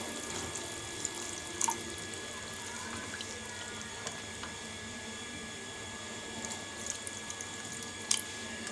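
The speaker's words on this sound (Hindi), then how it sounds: "अब हम इसमें पानी ऐड कर देंगे।" Water runs into a cooking pot of besan mangolian gravy, a steady faint trickle in a kitchen with a constant background hum and a few small clinks and knocks.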